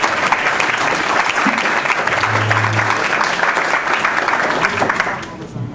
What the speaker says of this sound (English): let's give Jim Hume a big round of applause and welcome him